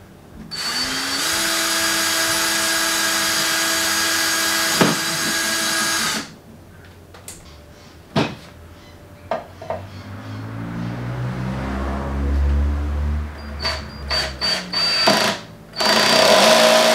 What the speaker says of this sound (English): let's mark it up and then we'll drill it